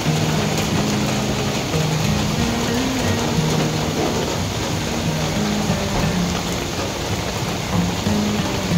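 Steady heavy rain pours down in the Konkan during the monsoon, a dense continuous wash with rumbling low undertones that could be distant thunder, loud and unbroken throughout with no voices.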